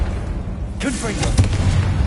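A fiery Confringo blast spell bursts in the Hogwarts Legacy video game, a sudden boom followed by rumbling impact, with a voice calling out over the loud action.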